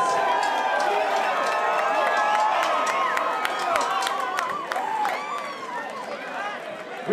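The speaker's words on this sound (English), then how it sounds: "So everybody, please a big round of applause for my very good friends," A concert crowd at the Westcott Theater applauding and cheering, a dense wash of clapping with whoops and shouts, loud and sustained before fading slightly, with voices scattered through the crowd.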